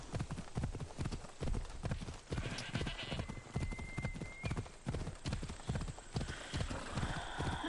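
Steady clip-clop of horse hooves trotting at a quick, even rhythm in the video game Assassin's Creed Odyssey, close and loud, with a faint whinny partway through.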